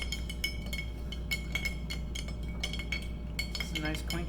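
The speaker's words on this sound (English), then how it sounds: "It's a nice clinking sound." Ice cubes clinking against glass as a rum Old Fashioned is stirred, a steady run of bright, close taps and chimes over a low background hum.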